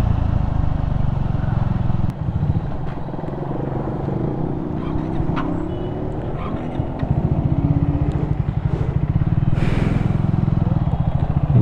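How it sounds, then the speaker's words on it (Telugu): A motorcycle engine on an evening ride through Konaseema, close and loud, throbs in a rough, uneven pulse as if close to stalling, with steady wind and road rumble throughout. "ఇది స్టాల్ అవుతుంది ఇంజిన్"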